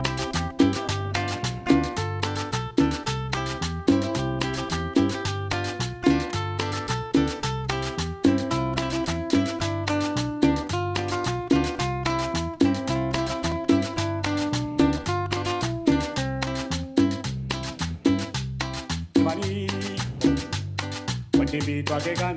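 Bass guitar line played within a full band mix during music production, steady rhythmic notes sitting under guitars and drums across the whole passage, continuous and prominent with no talking.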